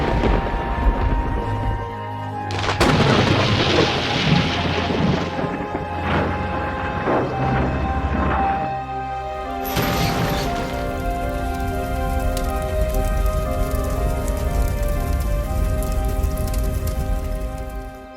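Stormy night with heavy rain pattering and splashing steadily throughout, punctuated by loud cracking thunder crashes near the start and again around the middle, added as sound effects; no voices.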